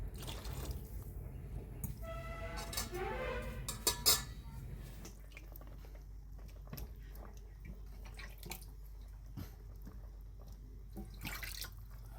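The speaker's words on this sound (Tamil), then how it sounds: "அதுக்காக வந்து கொஞ்சம் தண்ணி சேர்த்துக்கிறேன்" Water is poured into a pot of vegetable tamarind kuzhambu, a short splashing pour near the start followed by a few faint clinks and quiet background.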